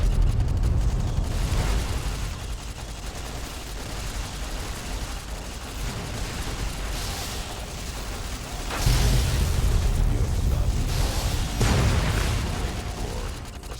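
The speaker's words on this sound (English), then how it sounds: "I'm just gonna go ahead and detonate all of these." Charges detonating in a video game, a rumbling series of deep booms and bursts layered over continuous game noise, with a heavier blast around the midpoint and the din sustained throughout.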